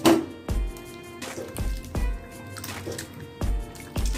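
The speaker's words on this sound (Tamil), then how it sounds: "நல்ல குடுவையான பாத்திரத்தில் போட்டு தேங்காய் பால் நல்லா புளிஞ்சு எடுக்கணுங்க." Grated coconut squeezed by hand in a vessel to press out coconut milk, giving a series of wet squelches and drips at irregular intervals, close and fairly clear with no talk.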